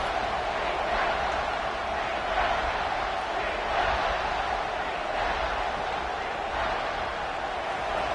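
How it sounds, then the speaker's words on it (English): At a college football stadium, a large crowd roars steadily to back the defense during a red-zone stand. The dense, even wash of cheering holds at a loud level throughout. "The crowd getting behind this defense as they try to get a stop in the red zone."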